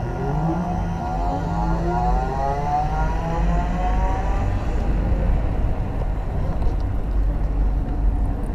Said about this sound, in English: show you what that motor sounds like